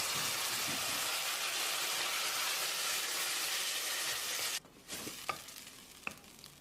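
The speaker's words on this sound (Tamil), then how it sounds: "தக்காளியை மசிகிற அளவுக்கு வதக்கிடலாம்" Steady loud sizzle of tomatoes sautéing in a hot pan, then it drops off and a few scraping stirs sound against the pan.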